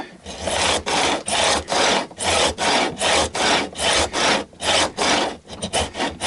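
A metal file works across the wooden neck of an Indian Encore AristoCat Strat guitar in a steady run of about fourteen rasping strokes, each a loud scrape with brief pauses between, close and alone.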